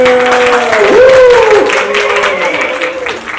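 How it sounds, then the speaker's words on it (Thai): Audience applause at a Meyer cookware cooking event with Mickey Mouse, loud clapping from a crowd with voices and a tonal, whooping sound over it. "เอาเสียงปรบมือ"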